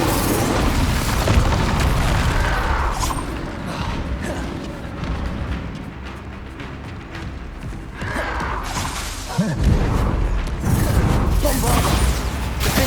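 Booming magical blasts from the Bombarda explosion spell in the Hogwarts Legacy video game on PS5 thunder loudly amid rumbling combat effects, with heavy low-end impacts recurring through the clip.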